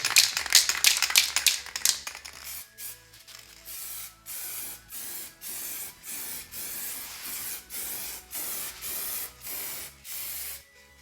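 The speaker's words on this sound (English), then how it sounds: "Now I will try to apply the clear coat." A spray gun lays clear coat onto a car's paint during a repair: first a dense rattling hiss, then a steady run of short, evenly spaced spray bursts, close by and with no talk.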